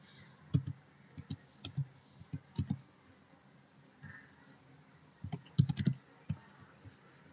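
Clusters of quick keystrokes on a computer keyboard while card details are entered, soft close clicking in irregular bursts with brief quiet gaps between.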